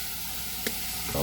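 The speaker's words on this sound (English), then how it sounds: "You're not going to cook this bacon all the way, because you want the flavor to render into the beans." Bacon sizzles in a pot as the base for beans, a soft steady frying hiss with a brief crackle in the middle.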